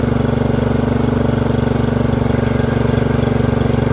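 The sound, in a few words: Murray 30-inch riding mower engine running with new carburetor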